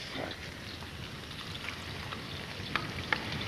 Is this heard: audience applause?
no